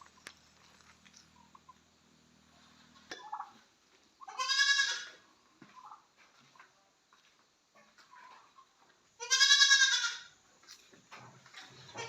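Two loud goat bleats ring out several seconds apart against a quiet farmyard background with faint distant sounds.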